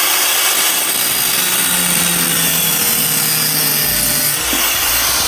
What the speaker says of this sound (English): I'm gonna go and get a grinder, cut it off right there